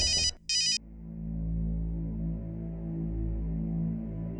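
A phone ringtone chirps in two short electronic bursts, then cuts off, leaving a low steady hum behind.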